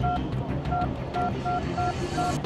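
Telephone keypad beeps sound inside a shop, six or seven short evenly spaced tones over a steady background hum.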